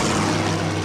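Steady droning of World War I fighter plane engines, SPADs and Fokkers in an aerial dogfight, a dense continuous propeller roar with low harmonic hum, loud and unbroken throughout.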